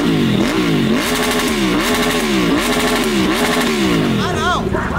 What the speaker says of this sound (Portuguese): Cheguei, desliguei a moto, acelerando, cortando de giro, acabando com tudo.